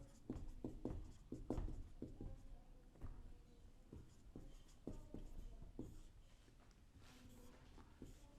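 Chalk tapping and scratching on a classroom board while a table's column headings are written, a series of short, dry strokes and taps at close range, with no talk.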